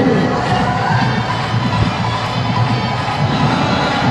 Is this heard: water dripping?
no